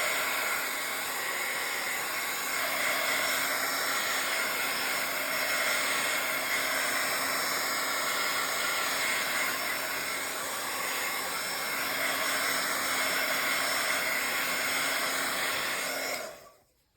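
A heat tool blows continuously to dry paint on a page of a Bible craft journal, a loud, steady whooshing hum held close for about sixteen seconds before it cuts off abruptly.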